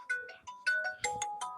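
A phone ringtone plays alone as a bright electronic melody of short tonal notes in quick repeated phrases, clear and fairly close.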